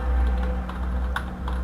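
A short, close burst of rapid keystrokes on a computer keyboard, heard alone, with uneven clicks over a faint background hum.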